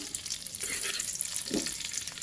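Quiet, steady sizzling of ghee in a hot wok, with a soft stir or scrape partway through; close and low in level, no talking.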